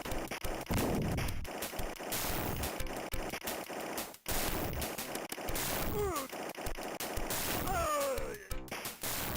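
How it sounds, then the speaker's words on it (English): Dense automatic gunfire and explosions from a shooter game played on a MiSTer FPGA setup, loud and continuous with brief dips, rapid bursts layered over booming blasts and a few rising whistling effects. "Those explosions hurt though"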